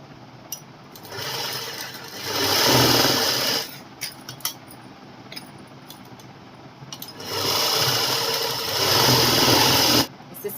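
A sewing machine stitches both side seams of a girl's co-ord garment in two steady bursts, a loud buzzing whir of needle and motor that stops for a pause in the middle before starting again.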